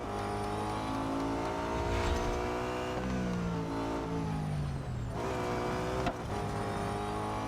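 Nissan R390 GT1 race car in Real Racing 3, its engine droning loud and steady with rising and falling pitch sweeps as it shifts and brakes through a sharp corner.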